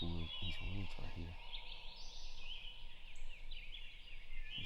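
Wild turkey gobbling in Mississippi woods, sounding fairly distant, with a voice talking near the mic early on and a steady woodland ambience behind.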